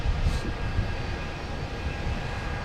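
Airliners, including Frontier and Lufthansa jets, fly near Boston Logan Airport with a steady, loud low engine rumble and roar, continuous throughout with no talk.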